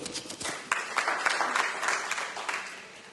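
Applause from a conference audience at a non-ferrous metals industry event: a dense, steady patter of many hands clapping for a few seconds, with no voices on top.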